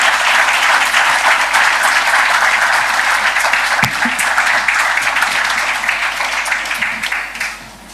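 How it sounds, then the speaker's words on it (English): A conference audience at a panel session on hydrogen applauds loudly and steadily for several seconds. The clapping then thins and fades out at the end, while a voice speaks faintly under it. "please join me in a round of applause for the panel"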